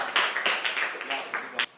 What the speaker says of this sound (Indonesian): Tepuk tangan dulu buat kelompok 5.